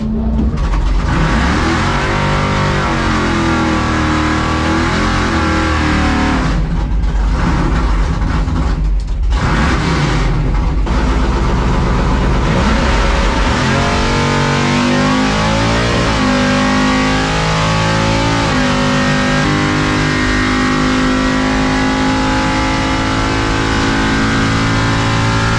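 A drag racing truck launches and accelerates hard down the track, its engine roaring loudly and continuously for nearly half a minute, the pitch climbing and dropping through gear changes as it stays close and dominant.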